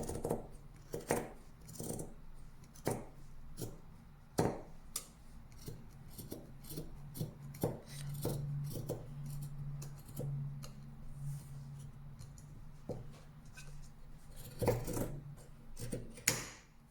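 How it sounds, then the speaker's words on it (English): Scissors snip through an old t-shirt, cutting it into strands: a string of sharp, close cuts in an irregular rhythm, with brief pauses between bursts and no talking. "So you just got to cut them out in strands."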